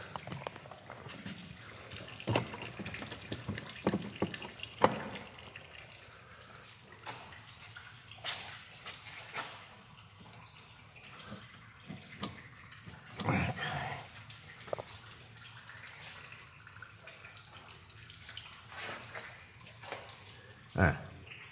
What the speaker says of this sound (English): excuse that noise, that's just the oil draining.